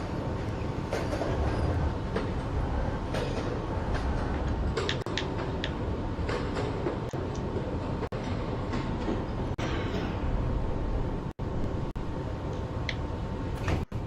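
A subway train in a Roblox game, running as a 5 train toward Atlantic Avenue–Barclays Center, gives a steady loud rumble with faint ticking clicks and brief squeaks throughout, with no talk.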